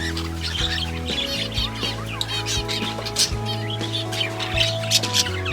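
Pet cockatiels call from a flight cage with repeated sharp chirps and whistles, fairly close and scattered irregularly over a steady background.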